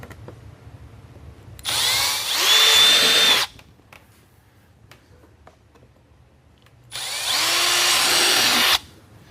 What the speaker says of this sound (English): Just drill 3/8 inch holes.